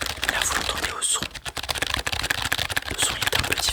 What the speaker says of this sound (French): On est encore sur un clavier mécanique. Là vous l'entendez au son.